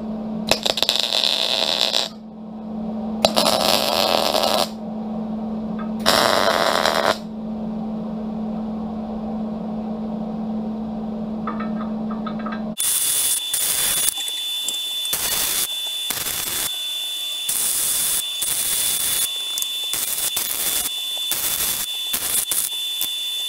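Short bursts of welding crackle and buzz in separate tacks on a steel county-line grader blade for a hydraulic conversion, first with a steady hum between bursts, then a denser run of close, loud hissing zaps.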